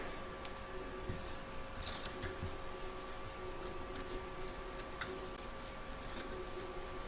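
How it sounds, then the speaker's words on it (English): An embroidery machine stitches a round in the hoop on a stacked Christmas tree design, a steady faint mechanical hum with light repeated ticking throughout, no voices. "Pop your hoop back into your machine and stitch round number 2 to secure it"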